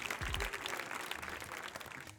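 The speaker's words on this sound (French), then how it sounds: "On peut venir s'applaudir." A small workout group claps together after a kickboxing session, a short burst of brisk applause that starts loud and fades out over about two seconds.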